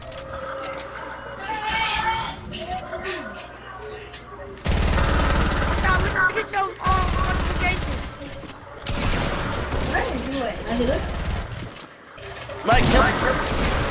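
Fortnite gameplay gunfire erupts in loud, dense bursts of rapid shots, separated by short pauses, with excited voices talking over the action.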